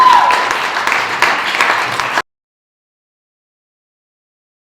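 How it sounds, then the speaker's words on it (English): Comedy club audience applauding after a stand-up set, a loud burst of crowd clapping that runs about two seconds and then cuts off abruptly into silence. "Big round of applause for everybody"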